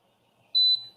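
A single clear electronic beep from an F1 laser engraving machine, lasting about a quarter second, loud and close over a quiet background, signaling the machine is ready.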